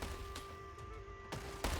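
Hand cannons fire at an armored car in a strategy video game, a few sharp blasts spaced apart over a steady background hum, the last one loudest.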